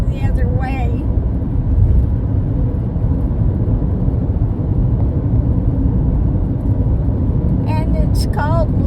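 A car drives along an empty desert road through a dry valley, its steady engine and tire rumble filling the whole stretch, with brief high squeaks near the start and end.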